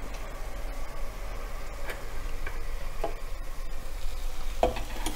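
Pepper chicken with curry leaves fries over high flame as a spoon stirs through the pan, giving a steady sizzle broken by scattered clicks and scrapes of utensil against metal.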